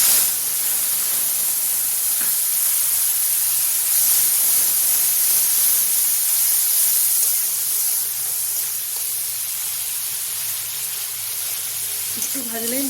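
Spice paste for a doi potol curry fries in a pan, giving a steady close sizzling hiss throughout, with a voice talking over it in places.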